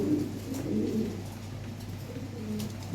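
Pigeons coo steadily at close range, a low, soft, throaty warble that rolls on with no pause. The birds are high-quality fancy breeds, European toy Lahore and Frenchie types, kept for sale.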